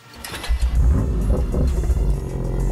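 A BMW M2 engine fires up close by, a quick crank bursting into a deep, revving roar that settles into a strong, steady rumble.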